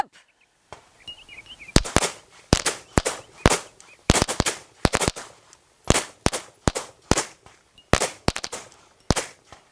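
Live gunshots during a point-shooting drill at a range, with about a dozen loud, sharp reports spaced at irregular intervals, some in quick pairs, ringing out between quiet gaps.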